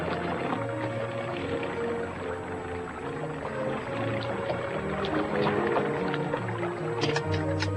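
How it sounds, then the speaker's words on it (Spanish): A water-powered hydraulic pump lifts water up to ten metres, giving a steady watery churn with gurgling and pouring tones throughout and a few brief clicks near the end. "Esta bomba, impulsada por fuerza hidráulica, transportaba agua hasta una altura de 10 metros."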